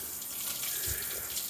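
A garden hose with a hose lock rinsing suds off a car, a steady close spray of running water that is brief and moderately loud, with no talking.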